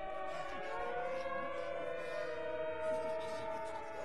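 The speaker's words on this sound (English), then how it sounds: "Sirens." Civil defense sirens wail in the video game The Secret World, a sustained layered drone that rises and falls faintly in the distance.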